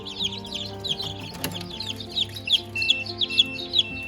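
Day-old chicks cheep shrilly and rapidly, several at once and close by, as they are handled and set into a brooder, with a low steady hum underneath and a brief clack midway.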